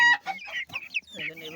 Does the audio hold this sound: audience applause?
no